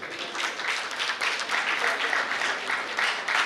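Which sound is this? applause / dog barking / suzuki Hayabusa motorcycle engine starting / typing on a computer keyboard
applause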